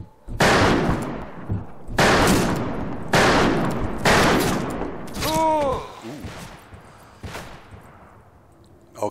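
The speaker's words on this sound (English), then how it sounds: "I'm shooting through walls now, dude." Gunfire in the video game Fistful of Frags: several loud, close bursts of shots in quick succession, one followed by a whining, ricochet-like tone, then fainter shots trailing off.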